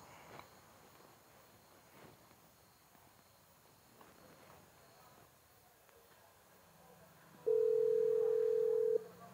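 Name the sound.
phone call dialing tone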